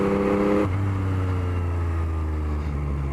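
A 2021 Yamaha MT-09 motorcycle drones at steady revs, then its engine note drops sharply as if shifting gear and carries on as a loud, close, even hum with no talk.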